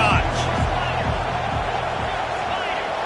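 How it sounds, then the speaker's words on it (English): A steady stadium crowd roar from EA Sports College Football 25, Ohio State Buckeyes against Washington, swells broadly and stays loud throughout beneath a commentator's continuous play-by-play. "this crowd is turning it up a notch"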